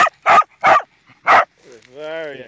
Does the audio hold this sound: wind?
no